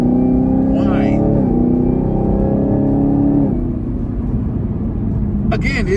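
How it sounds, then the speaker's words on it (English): A 650-horsepower car with 650 pound-feet of torque whines steadily while driving, its loud, close tonal drone holding pitch and then dropping in steps over a low rumble. "You hear that engine whine?"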